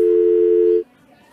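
A steady, loud telephone call tone holds unbroken for most of a second, then cuts off abruptly into quiet, an unanswered call.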